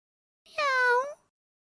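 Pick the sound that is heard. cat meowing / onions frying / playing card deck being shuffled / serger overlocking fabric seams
cat meowing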